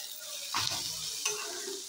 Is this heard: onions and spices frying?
yes